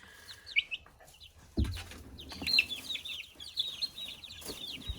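Chickens clucking and chirping in scattered bursts at moderate volume, with a dull thump partway through and faint rustling underneath.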